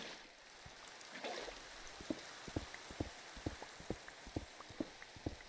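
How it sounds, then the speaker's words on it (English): Steady rain falls in the video game Minecraft: a soft, even hiss with regular, distinct ticking drops at a steady pace, heard on its own without talk. "Actually, I like the sound of the rain in this."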